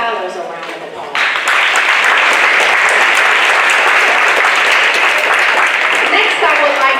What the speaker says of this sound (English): let's give our scholars a round of applause